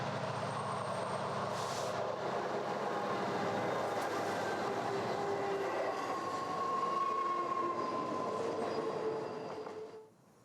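A CN freight train hauled by GM SD75I locomotives rolls past with a steady rumble and wheel noise, plus faint squeals, before fading out at the end.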